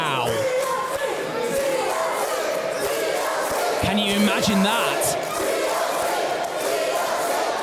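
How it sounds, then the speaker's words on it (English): Wrestling event crowd roaring and cheering steadily throughout, a dense continuous wall of noise with a voice talking over it. "The crowd want to see it."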